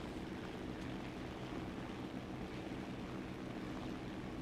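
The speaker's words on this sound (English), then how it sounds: "I hear an airplane." Propeller aircraft engine drone in the War Thunder ground battle, a steady, fairly faint broadband hum that holds without change, as if a plane circles somewhere overhead.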